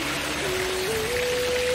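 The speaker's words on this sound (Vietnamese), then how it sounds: "Có một cái suối đã quá, suối nhỏ thôi." A small mountain stream on a trail up Bà Đen mountain runs with a steady, close hiss of flowing water, while a thin whistling tone rises in steps across it and no one speaks.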